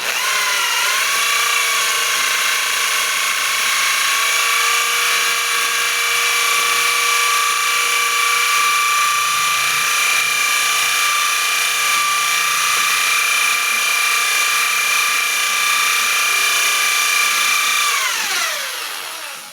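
A steady, high-pitched electric drill whirs continuously for a long stretch mixing dishwashing liquid without splashing, then winds down at the end.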